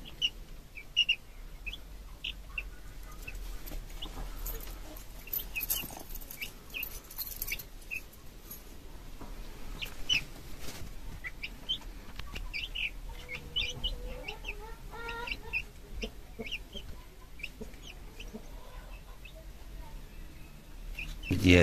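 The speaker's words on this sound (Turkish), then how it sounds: "Burada Brahma civcivler var." Brahma chicks from a home flock chirp and peep in a steady stream of small high calls, close by and fairly faint, with clucking fowl sounds mixed in.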